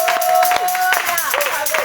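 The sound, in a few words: church congregation applause and acclamation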